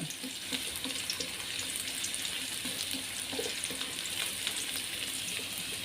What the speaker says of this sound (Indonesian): Kita tumis-tumis sampai harum, sampai garing. Cabai ini yang kita tumis, bawang merah, bawang putih dulu aja sampai benar-benar menguning matang ya.